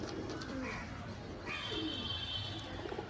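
Soft cooing of pigeons close by in a pigeon shop, low murmuring calls over a steady background hum.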